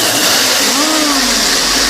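A blender purees peas with a loud, continuous motor whir and churning roar throughout, heard close and alone.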